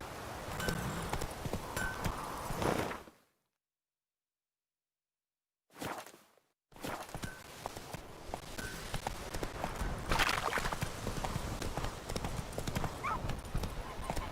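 Horse hooves gallop in The Witcher 3, a steady clip-clop rhythm up close, broken by a few seconds of silence, with a brief whinny and whooshes mixed in.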